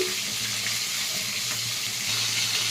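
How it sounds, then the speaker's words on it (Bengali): Fish fries in a hot pan with a steady, close sizzle and crackle, joined by faint watery clatter, and no voices. "মাছগুলো ভেজে নিচ্ছি আমি এক এক করে"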